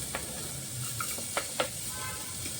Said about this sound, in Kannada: ಈರುಳ್ಳಿನೂ ಅಷ್ಟೇ ಹಾಕಿದ ಮೇಲೆ 1-2-3 ನಿಮಿಷ ಫ್ರೈ ಮಾಡ್ಕೊತೀನಿ